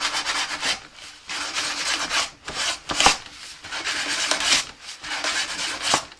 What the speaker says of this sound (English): sand the front of this nose cone